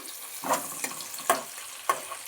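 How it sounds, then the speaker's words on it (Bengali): Garlic and onion sizzling in hot fish oil as they are stirred in a pan, with three distinct scraping stir strokes over a soft, continuous frying hiss, close and moderately quiet. "দিচ্ছি রসুন পেঁয়াজ রসুনটাকে একটু নেড়ে নিচ্ছি"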